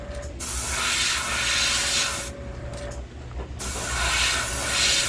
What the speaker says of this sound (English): I'm going to spray it very lightly, almost to the very end of the body.